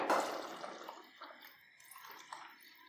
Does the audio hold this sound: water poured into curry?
yes